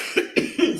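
Three short, sharp coughs in quick succession from a performer during a stage show, close and fairly loud with no talk between them.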